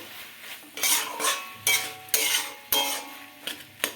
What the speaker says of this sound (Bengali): ঢাকাটা খুলে কপিটা একটু নাড়িয়ে দেবো।